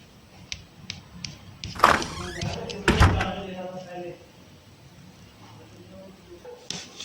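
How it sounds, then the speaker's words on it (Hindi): A door opens indoors in an animated Barbie episode, giving a couple of dull thunks and a brief slam-like knock amid cartoon voices talking. "मैं जाके दरवाज़ा खोलती हूँ।"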